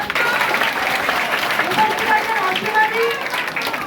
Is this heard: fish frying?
no